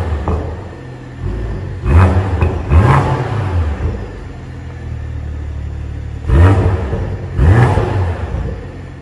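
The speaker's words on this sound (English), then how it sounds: "I think you can hear a nice 6-cylinder tone." A 2021 BMW M340i six-cylinder engine revving hard in two pairs of loud accelerating surges, each rising and falling sweep over a steady idle rumble, with no talk.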